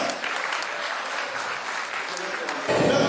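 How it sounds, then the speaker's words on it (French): Dense crowd applause for the Leeds team at a Guinean independence anniversary celebration in Manchester, steady and moderately loud, shifting abruptly to a different, fuller sound near the end. "Applaudissez très fort pour Leeds."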